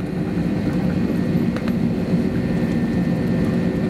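Inside the cabin of an ANA airliner on flight 794 from Oita, taxiing to Terminal 2 after landing on Haneda Airport's runway B, a steady loud low engine and rolling rumble continues with faint knocks.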